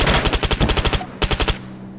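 MP7 fire in Arma 3, a rapid burst of about ten suppressed-sounding shots in even rhythm, a short pause, then a second quicker burst of four or five, loud and close with a brief tail.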